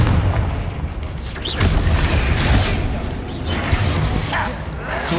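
Confringo fire blasts cast in Hogwarts Legacy, heavy booming bursts rolling over a dense roar of combat noise, loud and sustained with several swelling impacts, no talking heard.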